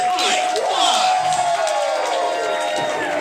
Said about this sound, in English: Crowd here showing their appreciation for Iron Ike Watts.